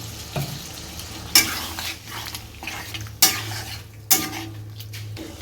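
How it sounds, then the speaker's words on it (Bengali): Chili chicken fried with a tomato-sauce purée in a pan gives a low sizzle under three sharp metal scrapes of a spatula stirring against the pan, roughly evenly spaced, with no talk. "দিয়ে একটু ভালো করে কষিয়ে নেবো"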